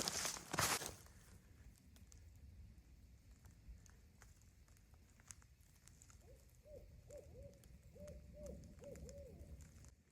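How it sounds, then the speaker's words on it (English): An owl hoots several times in a soft rhythmic series from a distance beside a creek, over a faint background of patter and rustling. "I think it's an owl."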